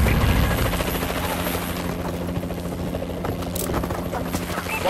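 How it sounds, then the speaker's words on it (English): Rotor thrum of a Warbird aircraft in the video game Call of Duty: Advanced Warfare, a loud steady chopping drone with game effects layered over it and brief in-game voice announcements. "Warbird ready for deployment."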